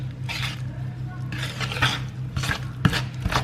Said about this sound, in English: you just like mix it until it's combined